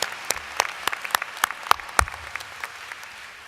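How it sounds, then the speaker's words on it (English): Audience applause at a 2018 School of Business commencement ceremony, heard as sharp, scattered claps that thin out and fade over a few seconds. "Another big round of applause for Jonathan."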